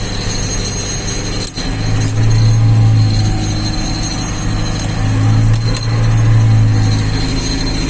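A tractor engine runs steadily at close range, a continuous low rumble with a strong droning hum and faint higher whine, its loudness holding even throughout with one brief dip.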